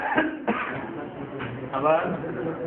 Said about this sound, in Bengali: একটা কাশি দেন তো।